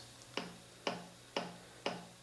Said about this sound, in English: a special kick I downloaded also from a sample pack a while ago